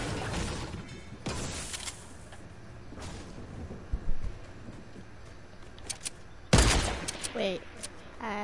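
Gunfire bursts in a video game, with sharp loud shots, including a sniper rifle, at irregular intervals between quieter stretches, alongside players chatting.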